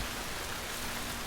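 Steady, dense rain hisses evenly over the landscape in the video game Death Stranding, a brief unbroken wash of noise with no talking.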